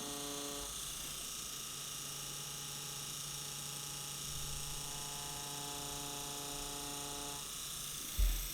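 A permanent makeup tattoo machine runs with its needle working on latex practice skin, a steady close buzzing whine with faint mechanical ticking that holds for several seconds before a brief thump near the end.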